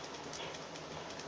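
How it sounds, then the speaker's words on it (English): A train rolls past in Grand Theft Auto V, a steady broadband rumble with faint rhythmic clatter filling the short moment, fairly quiet and without any voices. "Oh, that's a train."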